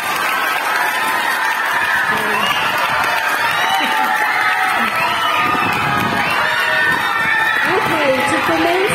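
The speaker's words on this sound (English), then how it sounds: "Let's give him a big round of applause." Large school crowd at a Grade 6 festival-of-talents program in the Philippines cheering, whooping and clapping in a sustained, dense roar that fills the hall, with children's shouts rising above it.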